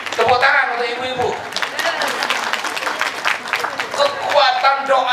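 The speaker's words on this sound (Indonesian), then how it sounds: "Tepuk tangan untuk ibu-ibu." Applause from an audience at a civil servant guidance session, bursts of clapping rising and falling over about five seconds, fairly close and lively, with possible voices mixed in.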